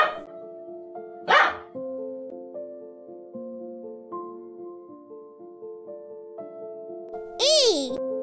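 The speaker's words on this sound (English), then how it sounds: "dog." A dog barks twice, a sharp bark early and another near the end, both loud and close over a light, steady background melody.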